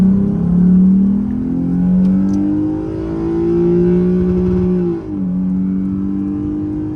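A Lexus IS350 engine revs and holds high toward 7,300 rpm, a loud, sustained tone that rises and levels off, with a brief dip near the end before it settles again. Heard up close, alone.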